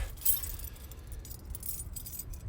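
A set of keys jingles as it is pulled out to unlock a door outdoors in snow, with a brief bright clink near the start and soft, scattered metallic rattles over a steady low rumble.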